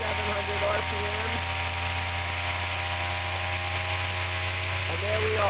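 A see-through centrifuge filtering waste vegetable oil spins at several thousand RPM, giving off a steady high electric whine and hum, close and constant, with faint talk underneath.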